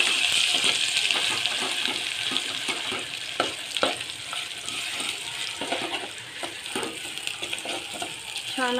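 Ground masala paste of cumin and mustard being stirred and fried in a pan for meat curry, a steady sizzle with scraping and clinking of the spoon throughout.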